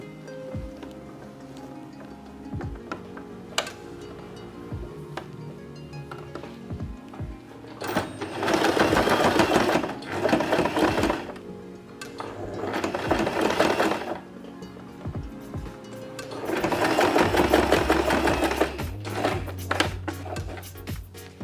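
A sewing machine running a straight stitch through turban fabric whirs loudly in three sustained bursts, with quieter pauses and small handling noises in between.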